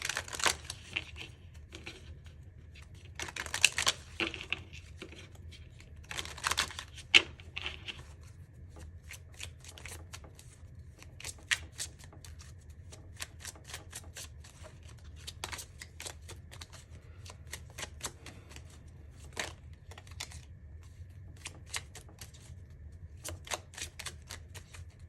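A deck of affirmation cards is shuffled close by, with a continuous run of soft papery riffles and flicks. Brief louder clusters of snaps come early on, and no one speaks.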